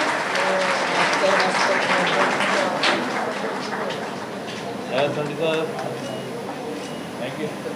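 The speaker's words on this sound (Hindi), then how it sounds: "जोरदार तालियां होनी चाहिए आप सभी तरफ से" A seated audience at a hospital stage event claps steadily, a dense wash of applause that softens slightly partway through, with voices mixed in.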